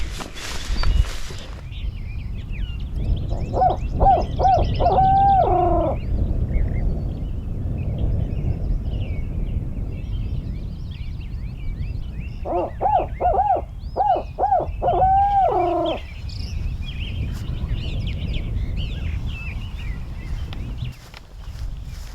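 A hunter working a wooded high point to locate turkeys imitates an owl hoot, two loud rhythmic bursts of hooting calls separated by several seconds of open outdoor quiet with faint rustling.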